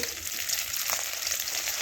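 Fish bones fry crisp in oil, giving a fairly quiet, constant crackling sizzle over a short stretch.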